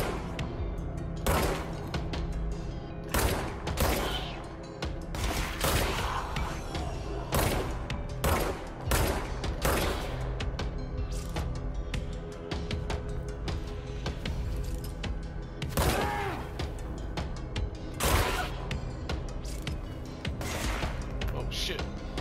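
Sharp gunshots and crackling weapon bursts in the game Control, scattered loud shots at irregular intervals over a busy ambient background, with a voice speaking in between.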